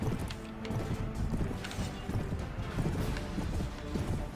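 Cavalry horses galloping in a medieval battle video game, a steady rumble of hoofbeats with clattering clip-clop across the whole stretch, dense and continuous under faint battle noise.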